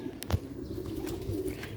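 Soft cooing from black-faced Sialkoti pigeons, broken early by a brief sharp rustle or tap, then a low throaty murmur carries on at close range without any talk.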